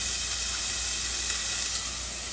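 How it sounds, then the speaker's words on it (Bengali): Onions frying in a pan give a continuous bright hiss and sizzle, steady and fairly loud, with no voices over it. "বাহ, পেঁয়াজটা ভাজছে।"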